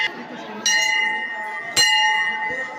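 A temple bell at a horse fair in Phaltan is struck twice, each strike ringing out loud and near with a long, bright metallic decay, over background crowd noise.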